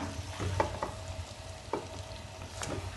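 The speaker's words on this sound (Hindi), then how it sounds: "ये देखिए व्यूअर्स, गोश्त भुना जा रहा है।" Mutton fries in ghee on a low flame, giving a soft steady sizzle with a few light stirring scrapes and clicks, close by and fairly quiet.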